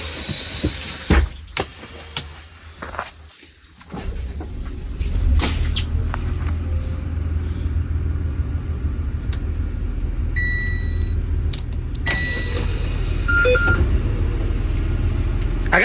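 Buses idling and starting up at a transportation depot in Falmouth, Maine, with a steady low engine rumble, air hisses, brief beeps and a few clunks, fairly close and continuous with no talking.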